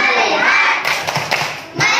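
Children in a classroom do a 'tepuk fokus' clapping routine, with a few sharp hand claps under their chanting voices partway through the short stretch.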